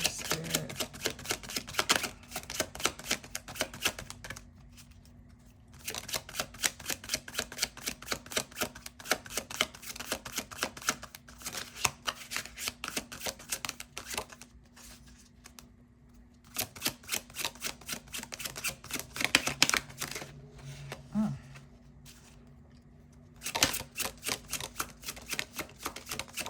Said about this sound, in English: let me give it a little shuffle.